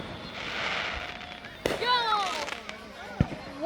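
Fourth of July fireworks bursting with whistling rising trails and sharp pops, some loud bangs near the end, while people chatter and exclaim over the show.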